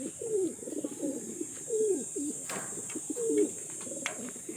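A homing pigeon coos softly during land training, three or four low rolling coos spaced a second apart over faint background noise and a few light taps.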